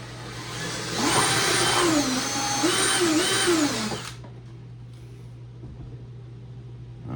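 A power drill widening a hole in plastic on a proton pack prop whines loudly for about three seconds, its pitch rising and dipping as the speed changes, then cuts off and leaves quiet room noise.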